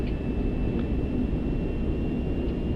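Airbus A380 engines roar during a night takeoff on a Lufthansa flight, a dense, steady rumble heard from inside the cockpit with a faint high tone above it.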